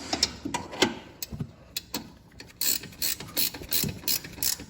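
Ratchet wrench tightening control arm bolts on a Fiat 124 Spider Abarth, scattered clicks at first, then a run of quick, regular ratcheting strokes, close and without talk.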